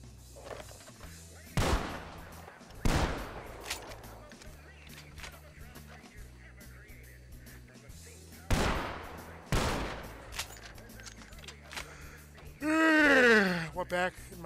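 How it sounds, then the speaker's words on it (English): Gunshots in Red Dead Redemption 2 during a Wild West roleplay session: four sharp, loud reports spaced a second or more apart, one pair around two seconds in and another near nine seconds, over low background sound, followed by a sweeping tonal whine. "I'm about to fire, so watch your ears."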